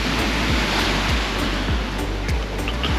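Sea waves wash onto a beach in Pattaya, Thailand, in a loud, close, continuous roar of surf with rhythmic low thuds as each wave breaks, no voices present.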